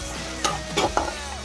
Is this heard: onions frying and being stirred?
yes